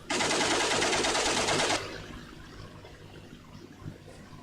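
The guns of an A6M2 Zero fighter fire in a flight simulator as one loud, continuous rapid burst lasting nearly two seconds, then cut off abruptly, leaving a quiet engine drone underneath.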